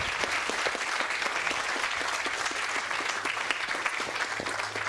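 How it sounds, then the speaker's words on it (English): Audience applause for guests at the close of a talk event: a dense, steady round of clapping from many hands that stays loud and even for the whole stretch, with no voices rising above it. "All big round of applause for our amazing guests."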